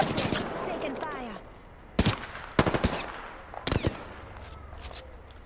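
Several bursts of automatic gunfire in the video game Apex Legends, with a rapid rattling volley at the start, then sharp separate shots and short bursts, with a voice in the mix.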